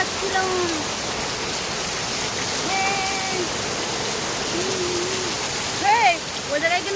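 Morning rain pours steadily as a constant broadband hiss outdoors, with occasional voices and brief bird-like chirps over it.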